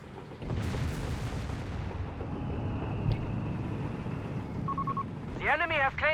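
Artillery guns firing in the video game Company of Heroes 3 send out heavy booms and rumbling blasts, with someone talking over the battle noise.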